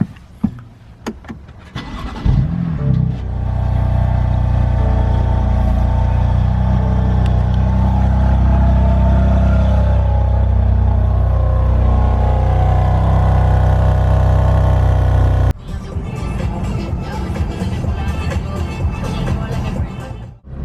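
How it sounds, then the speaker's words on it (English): A BMW M3 cold-starts after sitting overnight, its engine catching with a loud burst and then holding a steady, fairly close idle with a low rumble before the sound shifts near the end. "Let's do a cold start. It's been sitting here overnight."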